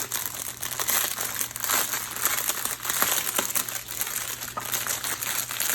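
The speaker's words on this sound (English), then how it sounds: "Sorry about the crinkle." Plastic packaging on a Diamond Art Club kit crinkles and crackles continuously as it is opened, close and fairly loud, in irregular bursts.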